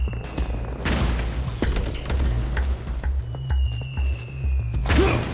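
Gunfire in the combat game Metal Gear Solid 4: Guns of the Patriots, a dense, loud fusillade of overlapping shots and booming impacts that rolls on steadily over low rumbling battle noise.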